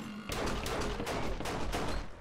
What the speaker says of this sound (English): All I hear is shooting.